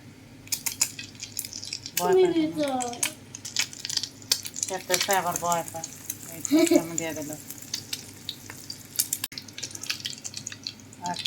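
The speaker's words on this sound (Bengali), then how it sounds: "বেজে নিলাম এগুলাতে প্রচুর তেল লাগে" Food frying in plenty of oil in a home kitchen pan, a continuous sizzle with occasional stirring clinks and drips, mostly under a voice talking close by.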